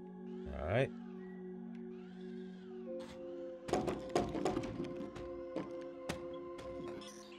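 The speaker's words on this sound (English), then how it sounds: "It seems this cat is hell-bent on killing this child." A cat meows in the video game Time Loader, with a rising, wavering yowl near the start followed by steady game music, a clatter of sharp hits and scattered clicks.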